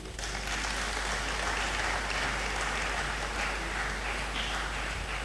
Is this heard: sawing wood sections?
no